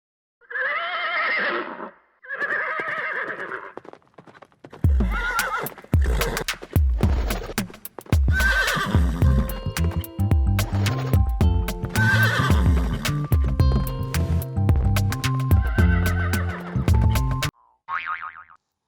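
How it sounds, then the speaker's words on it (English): A horse neighs twice, then a long stretch of hoofbeats with cartoonish boings and musical sound effects, ending in a short whinny. "H for horse. H for horse."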